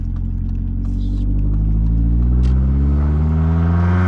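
A BMW car engine drones steadily while driving, a loud close low rumble whose pitch climbs gradually as it accelerates, with no talk.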